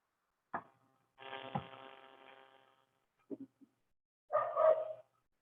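A dog barks indoors during an online English lesson call: a sharp yip, a longer drawn-out bark, a couple of short soft woofs, then another bark, each separated by silence and heard alone without talk.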